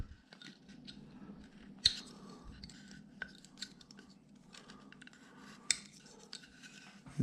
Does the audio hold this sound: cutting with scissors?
yes